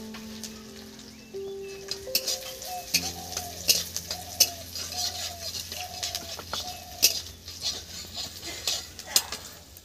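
A dried red chilli frying in hot oil in a pan, a low steady sizzle with light ticking taps and a few utensil clinks, close and fairly quiet, with a brief tonal hum in the background.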